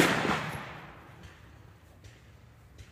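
A single loud shot from a Spikes Tactical AR9 9mm carbine with a pistol brace rings out outdoors at a range. It is followed by a long, fading echo that trails off over several seconds.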